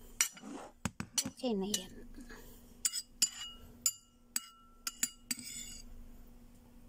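A utensil clinks and scrapes against a bowl while an eggplant dish is mixed, a series of sharp irregular metallic taps with pauses between them, under a quiet voice speaking briefly.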